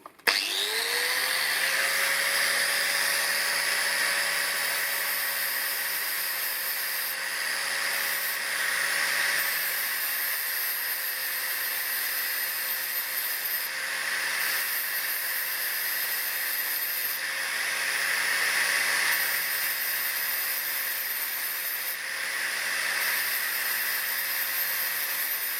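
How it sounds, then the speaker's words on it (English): An 80 grit flat wheel grinds a stainless steel weld in a steady, continuous whine with a high abrasive hiss that holds nearly unchanged for the whole stretch, loud and close, with no voices. "we're going to have a little go at trying to blend this weld in. Starting off with an 80 grit flat wheel"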